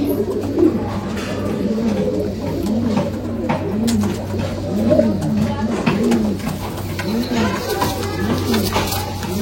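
Rampuri pigeons coo in a steady repeating rhythm, close and clear, over a constant low hum, with occasional flutters and a voice talking.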